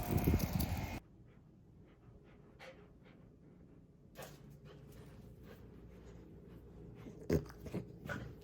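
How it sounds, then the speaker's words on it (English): A dog panting and whining indoors to be let out to pee in the morning, with a loud burst at the start, then soft breathy pants, small creaks and a sharp sound near the end. "That is Chip telling me that he needs to pee"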